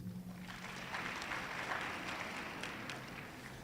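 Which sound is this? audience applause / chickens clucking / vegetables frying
audience applause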